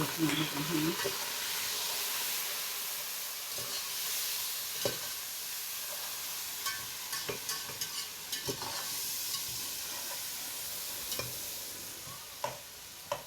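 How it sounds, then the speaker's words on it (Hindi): Garlic ginger paste frying with browned onions in a pot, giving a steady soft sizzle with scattered clinks and scrapes of stirring, fairly quiet and with no talk. "अब मैं डालूंगी इसमें लहसुन अदरक का पेस्ट।"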